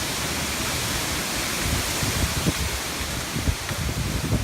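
Strong wind gusts of a severe squall line around 60 mph roaring steadily against the microphone, a dense broadband rush with brief surges, no voices.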